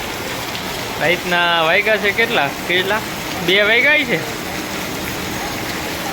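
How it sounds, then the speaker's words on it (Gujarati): Night rain falls as a steady wash of hiss under someone speaking Gujarati in the middle part, with the rain alone before and after. "જેવી ગરમી પડતી તેવો જ વરસાદ આવ્યો"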